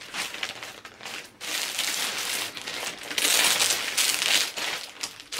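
A plastic packaging bag from a CowCow order crinkles and crumples in handling, loud close rustling in uneven bursts with brief pauses.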